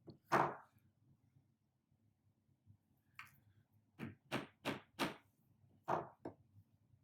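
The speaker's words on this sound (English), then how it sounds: "Give it a couple taps, drive it down in." A part is tapped down into a homemade candy dispenser: a few scattered knocks, then a tight run of about five sharp, close taps followed by two more, with quiet gaps between.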